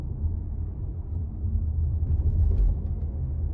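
A 2021 Mazda CX-30 2.5 S Premium rolls over a railroad track at low speed, heard from the cabin as a steady low rumble that swells slightly while crossing, with no talking.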